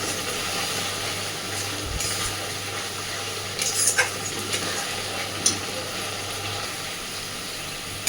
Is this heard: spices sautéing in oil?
yes